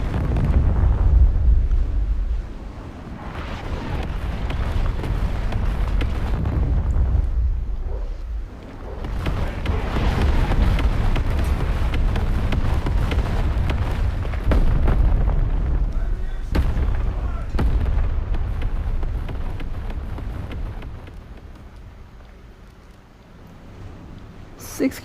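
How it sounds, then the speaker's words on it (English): Bombs dropped from aircraft explode in War Thunder Mobile, a tank battle game, producing heavy booming blasts and sustained rumbling through most of the stretch, loud and dense with scattered sharper bursts. "Bombs dropped."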